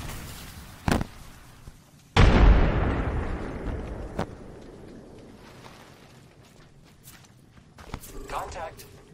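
A frag grenade blows up in Apex Legends with one loud, sharp blast that decays into a long rumbling tail, followed by scattered smaller pops and footstep-like clicks.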